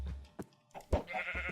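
Sheep in Minecraft with the FTB Skies modpack, a few short faint bleats in quick succession, alone without speech.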